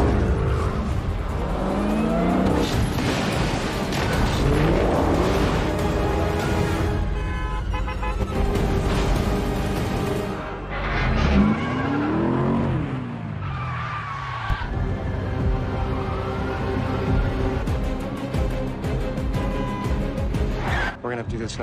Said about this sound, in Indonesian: Di dalam pengejaran, mobil yang dikendarai Dusty tergelincir